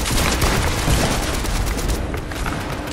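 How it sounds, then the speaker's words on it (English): Dense burst of Fortnite gunfire, rapid overlapping shots crackling loudly through the whole stretch with a thick rumbling game backdrop and no voices on top. "I shot one shot"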